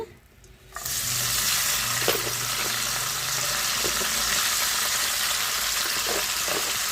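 Small dried fish (parigalu) frying in hot oil until reddish, giving a loud, steady, close sizzle that starts abruptly and carries on without pause, with no talking.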